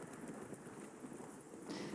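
Roach, the horse in The Witcher 3, gallops along in a steady, continuous clip-clop of hooves that stays fairly close and even throughout.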